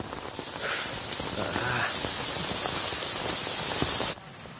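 Steady rain pours down in a rural Tamil setting, a dense hiss of drops on surfaces that starts abruptly after a moment of quiet and stops sharply near the end, loud and close.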